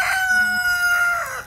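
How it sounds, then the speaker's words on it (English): A rooster in the Philippines crows once, a clear drawn-out cock-a-doodle-doo close by and alone, with no talk over it. "Oh, there you go, a cock-a-doodle-doo. You hear that all the time here in the Philippines."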